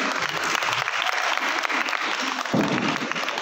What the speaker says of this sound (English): And give a huge round of applause for these three people, Pavitra Das, Kantya Sinha and Arjuna Roy Ka